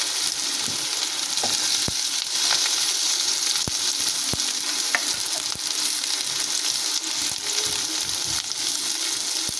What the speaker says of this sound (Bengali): টুকরো করে কাট টমেটো কুচিগুলো দিয়ে দেবো